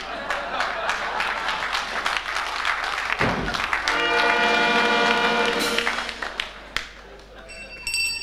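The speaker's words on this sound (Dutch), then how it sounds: "Dank je, Drika, voor het mooie applaus." A crowd claps in dense, sustained applause, swelling and then fading, with some brief tonal sounds near the end.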